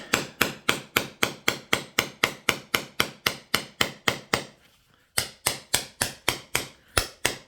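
Flint knapping on Rainey Buttes and Flint River chert with a 3/4-inch bopper produces sharp, evenly spaced strikes in a quick steady rhythm, a short pause, then the regular blows resume, loud and close.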